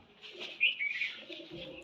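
A pair of Banke pigeons giving soft, low cooing calls, brief and fairly faint, with no other sounds.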